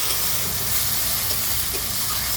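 Ground spices with turmeric and chili frying in a pan, a steady dense sizzle and hiss that stays close and even throughout.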